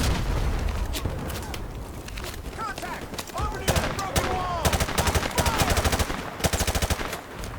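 A grenade blast and dense automatic gunfire fill a Call of Duty 4: Modern Warfare firefight, with sustained loud rapid bursts and booms throughout and voices talking over the battle.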